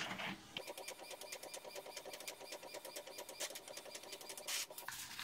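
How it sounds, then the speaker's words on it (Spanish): An Epson XP-2200 inkjet printer running a print job, a fast rhythmic mechanical clatter of the moving print head and rollers, steady and close, with a brief louder whir near the end. "acto seguido la impresora ya se pone en marcha"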